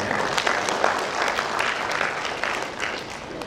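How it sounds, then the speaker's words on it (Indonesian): Graduation ceremony audience at STMIK Mahakarya giving a round of applause: a loud, dense, continuous wash of clapping from a large crowd, steady throughout the short burst. "kita berikan juga tepuk tangan buat Bapak Ibu"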